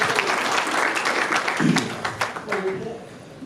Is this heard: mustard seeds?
no